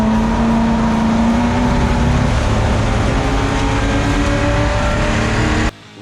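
A race car at speed on a track, its engine note rising and shifting through gears in a loud, sustained whine that cuts off abruptly near the end.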